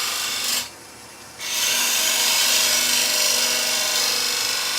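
Woodturning tool dragging across the grain of a wood piece spinning on a lathe while turning an insert clock, a steady, close, hissing scrape with a brief drop in level near the start before the cut resumes.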